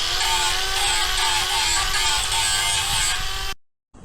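An angle grinder cleans up a steel edge on an NPR200 4x4 tray build before welding, giving a steady loud high-pitched whine with a constant tone for several seconds before it cuts off abruptly.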